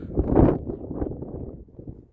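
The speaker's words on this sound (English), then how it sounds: "It's windy." Gusty wind on the Appalachian Trail in Virginia buffets the microphone in a low, rough rumble, strongest near the start and easing off toward the end.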